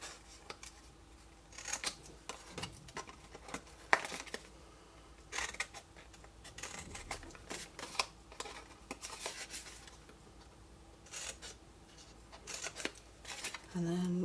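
Scissors trim paper for an egg punch board box, giving repeated close, crisp snipping cuts in short bursts spread through the clip, with quiet talking in between.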